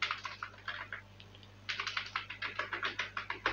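A computer keyboard clatters as a JavaScript console log statement is typed, with two runs of rapid, even keystrokes separated by a brief pause, heard close and alone.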